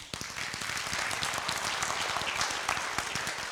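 An audience breaks into steady applause, many hands clapping in a dense, continuous patter that fills the room evenly for a few seconds, moderately loud with no voices over it.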